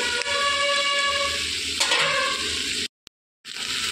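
Okra pieces drop into hot oil and sizzle loudly with a steady frying hiss, stirred briefly, then a short break in the sound before the sizzle resumes.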